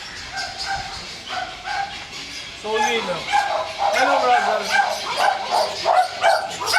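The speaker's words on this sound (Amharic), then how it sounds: "ውሻ" A dog at an animal and bird collection in Dubai lets out a run of sharp barks and yips, close and loud, with people talking over it.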